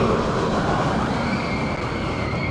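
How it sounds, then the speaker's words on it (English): Capital Bullet Train, an indoor ride at Motiongate Dubai theme park, gives off a loud continuous rumbling rush with a steady whine above it, close and unbroken, with no voices. "There's Capital Bullet Train making noise."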